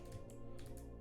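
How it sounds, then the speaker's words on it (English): Rapid computer keyboard typing: several quick, soft key clicks within about a second, heard faintly under a steady low hum. "I'm fighting with my keyboard here."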